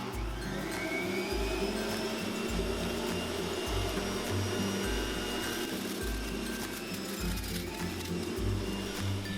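A juicer motor runs steadily while pressing balled-up carrot green tops, a continuous loud whirring hum with recurring low pulses roughly every second as the greens feed through, and no talking.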